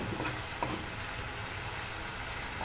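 Strawberries cooking in a pan for jam, stirred gently, producing a soft, fairly faint sizzle with a few light scraping stir sounds.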